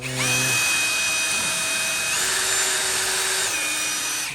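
A power drill bores pilot holes into a wooden workbench, a steady high whine with a shift in pitch midway as the bit bites, loud and close throughout with no voices.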